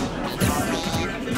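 Little Mac takes a down smash hit in Super Smash Bros during a Diddy Kong versus Little Mac tournament singles match, a loud impact thud within dense, continuous game and crowd noise.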